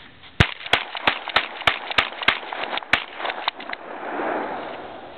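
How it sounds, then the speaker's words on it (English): A tactical Remington 870 shotgun fires a quick string of about eight sharp, loud reports in rapid uneven succession, each a hard crack, with no talking. "We're gonna do a little bit of quick shooting."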